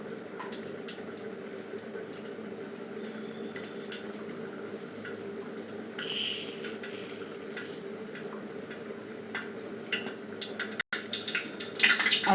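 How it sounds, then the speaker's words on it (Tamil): Oil heats in a pan for tempering a Tamil ash gourd kootu, giving a steady low sizzle and hiss throughout, with a brief louder crackle midway and a rise in bright spattering near the end. "அடுத்து நம்ம அந்த கூட்டுக்கு தாளியத்துக்கு எண்ணெய் ஊற்றிக்கிடலாம்."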